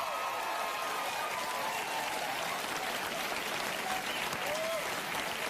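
A large audience applauds continuously, a dense steady wash of clapping heard from a little distance, with faint voices mixed in.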